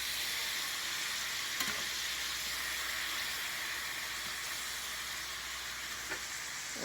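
Peppers and onions with Worcestershire sauce fry in a pan, giving a steady, even hiss of sizzling throughout, with a couple of faint clicks and no talking.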